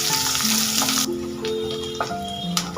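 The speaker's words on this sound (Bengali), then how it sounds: "পেঁয়াজটা লাল করে ভেজে নেব।" Medium-size chopped onion frying in a pan until browned, a loud hissing sizzle that drops abruptly after a second, leaving a softer crackle with a few clinks and thin tonal whines, no talking.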